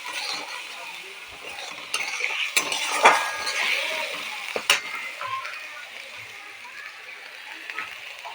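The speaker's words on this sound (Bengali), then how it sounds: "মশলার সাথে কড়াইশুঁটিগুলো একটু ভেজে দেব।" Spiced green peas frying in a pan for a vegetarian potato curry give a steady sizzle, with metal spoon scrapes and clinks against the pan at a few moments.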